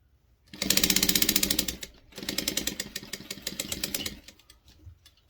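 A sewing machine stitches binding onto a quilt in two rapid, rhythmic bursts of whirring stitches separated by a brief pause, close and clear, then winding down.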